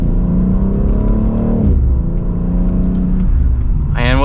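A 2024 BMW X3 M Competition accelerates hard from second gear, its engine climbing in a loud, close, rising roar with a brief dip at a gear change, then building again.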